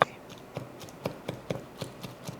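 A knife chops shrimp steadily on a board, light taps roughly every quarter second, close and fairly quiet.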